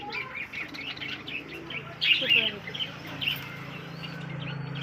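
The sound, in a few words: pigeons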